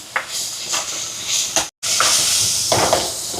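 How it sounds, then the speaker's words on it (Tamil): Onion and crushed garlic sautéing in a pan for a prawn curry, giving a steady close sizzle and hiss with a few brief stirring scrapes and one short silent gap. "இப்போ உள்ளி கொஞ்சம் வதங்கி இந்த பச்சை வாசம் போகட்டுக்கும்"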